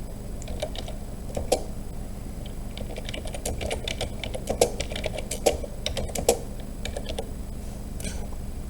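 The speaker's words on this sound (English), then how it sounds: "I'm gonna start typing" Fingers type on a computer keyboard, close and alone, with irregular bursts of clicking keystrokes and a few louder, sharper key strikes.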